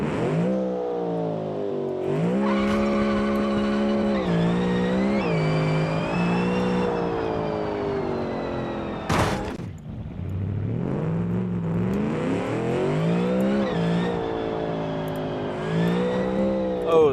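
A 5.2-liter V8 car engine revs loudly in the BeamNG driving game, its pitch climbing and falling through repeated acceleration runs with a brief tire squeal, close and continuous with no talk.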